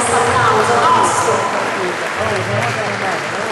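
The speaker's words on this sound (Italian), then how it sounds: "Ecco, bello, tosto questo applauso, tosto!" A live audience at an arts and crafts fair applauds steadily for several seconds, a dense continuous patter that stays fairly loud throughout.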